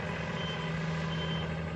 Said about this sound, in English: going back and forth over the gravel